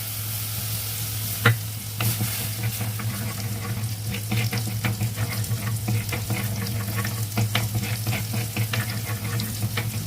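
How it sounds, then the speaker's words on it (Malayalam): Masala frying in oil in a pan over a low flame gives a steady close sizzle, broken by scraping stirs and a few sharp clinks of a spoon against the pan, with no voices. "കുറച്ച് നേരം മൂപ്പിക്കണം, എണ്ണ കഴിയുന്നത്."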